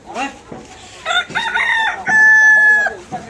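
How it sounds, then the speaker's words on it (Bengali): Roosters crow loudly and close up among clucking chickens at a busy poultry market in Bera, Pabna, with one long crow standing out near the end. "এটা মুরগি বাজার"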